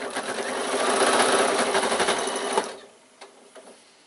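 A sewing machine runs steadily, stitching fabric for a baby away-day bag, with a fast whirring rhythm for about two and a half seconds before stopping, followed by a few faint clicks.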